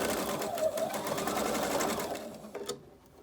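A sewing machine bastes a panel onto a six-panel welding cap with a fast, close, continuous mechanical whir of stitching, then slows and stops near the end.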